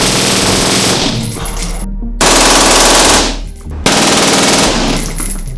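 A suppressed SIG MCX rifle on its high gas setting fires full-auto at around 1,200 rounds per minute. Three loud, rapid sustained bursts come close up, split by brief pauses.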